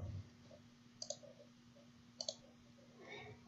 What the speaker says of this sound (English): click the plus again